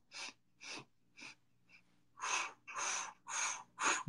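A series of sharp nasal inhalations, four short sniffs followed by four longer, louder deep breaths in through the nose, demonstrating a breathing exercise, close and alone with no talking.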